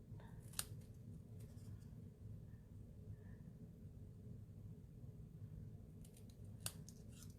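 Scissors snip angled cuts into the end of a ribbon for a handmade Christmas card, giving two faint, crisp clicks several seconds apart against a quiet room with no talking.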